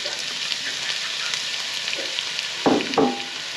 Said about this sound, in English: I'm going to start browning off the onions